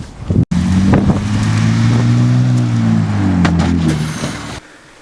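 A car drives along with loud, steady wind buffeting over a droning engine whose pitch rises and falls, beginning just after a brief abrupt cutoff and then dropping away sharply near the end.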